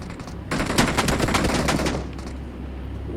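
Rapid automatic gunfire in the mobile shooter BGMI, a loud, close, dense burst of shots lasting about a second and a half, then a quieter tail with a couple of faint later shots.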